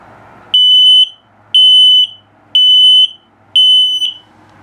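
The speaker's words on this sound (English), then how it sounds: "And then, of course, low battery alarm." An RV's LP/CO detector sounds its low-battery alarm in a 2022 CrossRoads Sunset Trail travel trailer: four loud, piercing electronic beeps, each about half a second long, evenly spaced with short quiet gaps between them.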